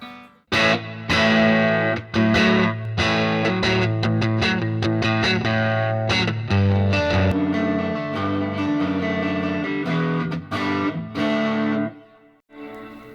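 Electric guitar played through a Fender '68 Custom Vibro Champ Reverb combo amp with reverb and bass up, loud strummed chords and single notes ringing out with a muddy, boomy low end, alone without talk.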